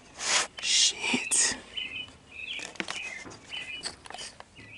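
Birds chirping outdoors in short bright bursts and tweets scattered through the clip, some loud and near, others fainter, with brief rustles between them.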